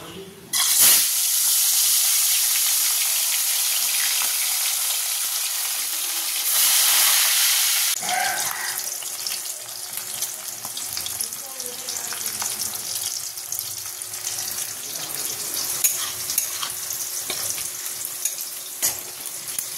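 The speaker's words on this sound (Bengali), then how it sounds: "চলো মাছটাকে ভেজে নিই।" Fish frying in a pan, an intense hissing sizzle bursting up loudly at the start and again briefly, then settling into a quieter steady crackle with faint clatter.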